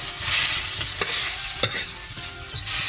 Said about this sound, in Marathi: बघा कसा तळतो, असा तळी जा भाजीला कांदा.